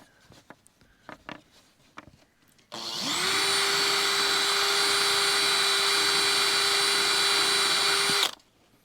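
A polishing wheel loaded with polishing soap, used on a coil cover, spins up after a few light taps and holds a loud, steady whirring whine for about five seconds before cutting off abruptly.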